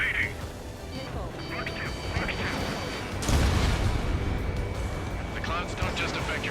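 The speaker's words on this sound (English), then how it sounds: "Missile fire, evading." Missiles firing during an Ace Combat 7 aerial dogfight with an F-14A Tomcat: a loud rushing burst midway through over a steady jet-engine roar and combat noise, with radio chatter voices throughout.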